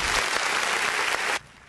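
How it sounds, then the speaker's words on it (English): A burst of applause sound effect, dense steady clapping for about a second and a half that cuts off abruptly. "Any kind of good sound effects? Get her a clap."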